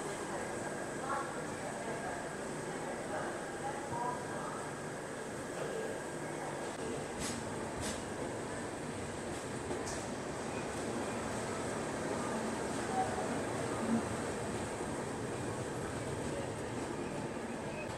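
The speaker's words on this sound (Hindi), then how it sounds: "ट्रेन अपनी एकदम ऑन टाइम चल रही है" Inside a third AC economy coach of the New Delhi–Mumbai Duronto Express running at night, a low steady rumble and hiss of the moving train with a few faint clicks from the rails.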